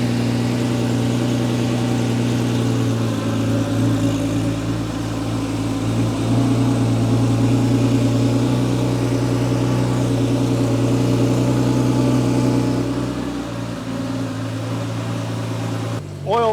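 Porsche 911 3.2-litre flat-six idling steadily after fuel line work, a loud continuous low hum with a stable drone and slight shifts in intensity, close by.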